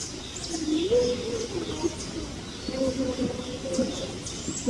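Birds calling at Calgary Zoo, a series of soft, cooing, dove-like calls repeating in two bursts over a steady outdoor background, with a faint voice present.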